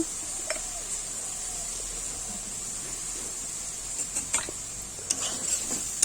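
Ground coriander and cumin stirred with aubergine and pangas fish in a pan, a steady soft sizzle with a few spoon scrapes near the end, no voices.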